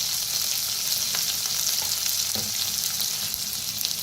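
Oil and spices frying in a pan for a bitter gourd dish make a loud, dense, continuous hiss up close, with a couple of faint stirring scrapes beneath the steady sizzle.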